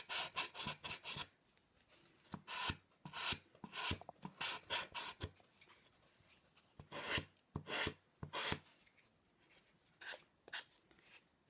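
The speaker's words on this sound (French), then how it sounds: "On va limer un petit peu." Hand file rasping along the corner of a cardboard box in a cartonnage build, close and dry, in quick bursts of rough strokes with short pauses between them.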